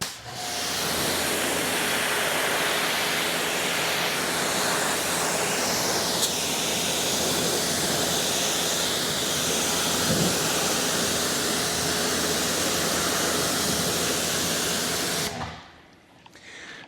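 A pressure washer with a 40-degree tip sprays a car to rinse off pre-wash, a loud continuous broadband hiss of water jet that holds steady for about fifteen seconds before cutting off.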